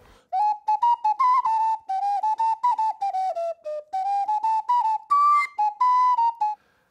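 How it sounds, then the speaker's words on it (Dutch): A piccolo plays a lively tune of short, bright, high notes in quick succession, clear and close, with brief gaps between phrases. "En dit is een hele leuke fluit. Dit is een Piccolina."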